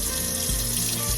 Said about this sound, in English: So I run water over them 2 or 3 times and pour it back out through the strainer